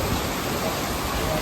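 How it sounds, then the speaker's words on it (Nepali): Steady rain pours down on the road to Surkhet, Nepal, heard from shelter under a petrol pump roof: a dense, even hiss with no break and no voices. "पानी परेर अहिले हामी चाहिँ पेट्रोल पम्पमा लुकेर बसेका छौँ"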